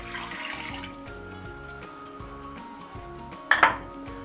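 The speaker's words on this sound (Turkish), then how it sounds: "Koyduğum suyu bunun içine boşaltıyorum" Water is poured from a glass into a pot of tas kebab. A low background hum gives way to a short, splashing gush near the end, close by, with no talking.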